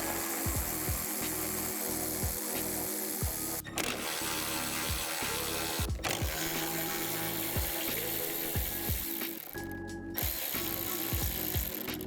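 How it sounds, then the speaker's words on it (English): Power tool driving out the four T40 Torx bolts on a 2019+ Jeep Wrangler JL side cowl, heard as repeated close ratcheting whirs and clicks in short bursts, with no talk. "remove these 4 bolts on your side cowl. You're gonna be using a T40 for this."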